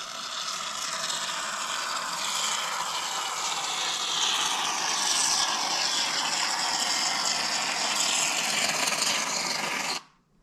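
Expanding insulation foam hisses steadily from a spray can for about ten seconds while filling gaps around wood strips during a DIY cabin build, a dense broadband rush that cuts off abruptly at the end.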